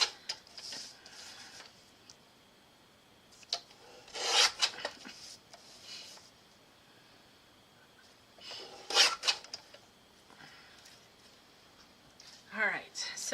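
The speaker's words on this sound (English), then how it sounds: "Alright, so there's my little trim going on." Card paper trimmed on a paper trimmer for Christmas cards, several short rasping slides of the blade through the card, separated by quiet gaps, close and fairly soft.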